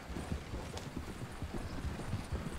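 Horse hooves clip-clopping at a steady walking rhythm on a trail in Red Dead Redemption 2, close and continuous over a low background ambience.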